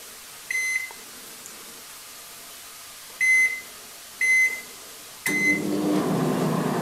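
A convection microwave oven hums, broken by short electronic beeps: one, then two more a second apart, and a final beep as the fan roar starts.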